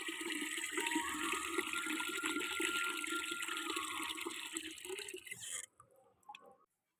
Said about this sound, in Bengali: তো বালতিটা প্রায় ভর্তি হয়ে এসছে।